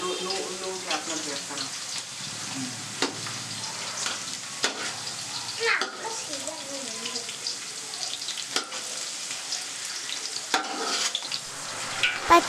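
Carrot pieces sizzling and frying in a pan, with the scrape and clack of a spoon stirring at intervals, moderately close over a soft background hiss, a voice speaking now and then.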